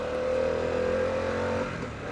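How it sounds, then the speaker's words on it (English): A 2022 Harley-Davidson Pan America Special with its stock exhaust holds a steady, throaty rev for about a second and a half, then eases off as the note drops away. "I think the stock pipe sounds pretty good on this thing, especially when you've got it opened up."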